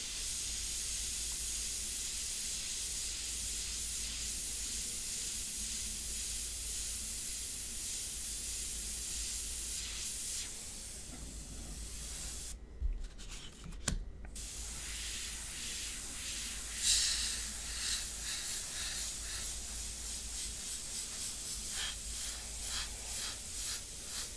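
An airbrush sprays India ink onto paper for a portrait, giving a steady, close, continuous airy hiss that stops briefly near the middle and then resumes.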